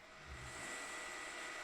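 A stand mixer whips egg whites for macarons at high speed, giving a steady, loud, close whir that holds without a break.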